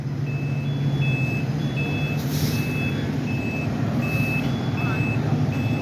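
A fire truck backs up with steady, evenly spaced reversing beeps over a loud idling diesel engine at a Boston fire department response to a struck box on Bowdoin Street in Dorchester.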